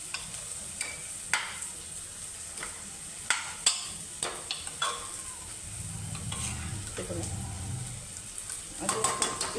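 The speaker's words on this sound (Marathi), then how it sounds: "हे चांगलं आता रगडून घ्यायचं व्यवस्थित।" Cooked pav bhaji vegetables are mashed in a pan with quiet, irregular knocks and scrapes of a masher, over a soft background sizzle.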